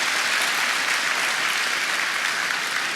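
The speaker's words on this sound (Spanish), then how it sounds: "Dele ese aplauso al Rey bendito." Applause fills a church service for the full three seconds, a dense, even roar of many hands clapping with no gaps or voices standing out.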